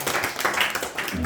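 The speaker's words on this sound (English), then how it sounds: "Please give a round of applause." A brief round of applause from a group in a Bhagavad Gita study session, dense clapping close by that blends with overlapping speech for just over a second.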